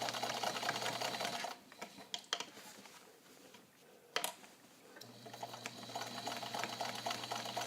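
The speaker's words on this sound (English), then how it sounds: "And I'm sewing at a moderate pace here." Vintage Italian-made Necchi BU Nova all-metal zigzag sewing machine stitching at a moderate pace, a steady close mechanical whir that pauses briefly in the middle and then resumes, with no talking.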